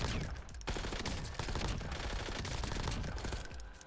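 Rapid automatic gunfire from a gun in the shooter game Warzone, a dense, loud, continuous burst of shots with no talk over it.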